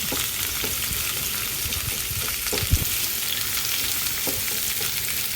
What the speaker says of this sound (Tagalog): Ito tayo magigisa sa aking pinagprituhan.